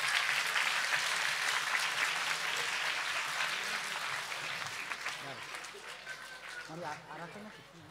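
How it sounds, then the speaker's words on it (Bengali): An audience at a school prize distribution ceremony claps loudly and steadily, the applause slowly thinning out toward the end, with voices talking over it. "একটু জোরে হাততালি দেওয়া লাগবে।"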